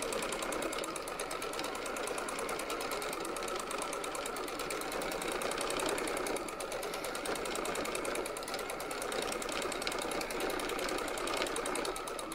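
A sewing machine runs steadily while stitching a patchwork quilt, a continuous close mechanical whir with no pauses.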